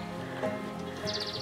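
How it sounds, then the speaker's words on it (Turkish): Faint birdsong chirps in the background, a few quick high trills against a steady outdoor hum, distant and soft. "Kuş sesleri harika."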